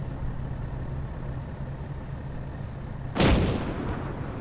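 A single loud blast of gunfire strikes a compound in the Arma military game, a sharp crack with a short rumbling tail, arriving after several seconds of steady low engine hum.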